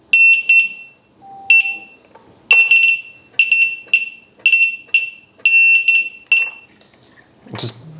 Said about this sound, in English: Just beeping a lot.